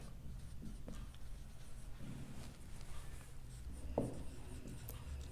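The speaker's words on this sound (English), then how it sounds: "And I shall write the statement first." A lecturer writes out a statement during a mathematics lecture on Laplace transforms, producing soft, scattered writing strokes and taps over a quiet room background.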